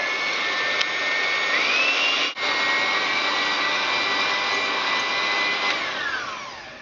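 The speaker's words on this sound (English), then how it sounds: "we're just whisking them until we get stiff peaks" Electric mixer with a whisk attachment whipping egg whites to stiff peaks for a devil's food cake, a steady loud whirring hum that holds constant with one brief dip and a slight pitch shift, no talk.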